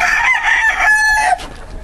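A young Duke Halsey Gold gamefowl rooster crowing once in a barn, a loud, close, strained cock-a-doodle-doo that rises and trails off, followed by quieter barn ambience.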